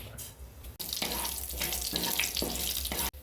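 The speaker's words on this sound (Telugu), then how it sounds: "ముందుగా కొంచెం ఆయిల్ వేసుకోవాలి జీలకర్ర ఆవాలు వేసుకుంటున్నా" Cumin and mustard seeds crackling in hot oil in a pan, a steady hiss with faint popping that runs the whole time, broken by a brief clatter near the start and the end.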